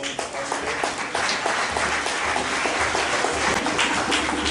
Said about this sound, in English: Round of applause for our first awardee for tonight, Dr. Tomlinson.